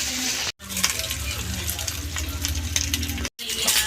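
Pork liempo fries in its own rendered fat in a pan, a loud, steady close sizzle with stirring scrapes, briefly cut twice by short silent gaps.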